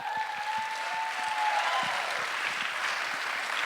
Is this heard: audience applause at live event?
yes